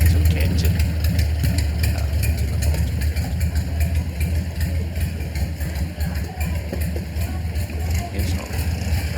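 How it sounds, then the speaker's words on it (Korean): Engine-driven boats run in Thailand, making a loud, continuous low rumbling drone with rattly vibration that holds steady from start to finish. "이렇게 엔진이 달려있는 배들을 보는데"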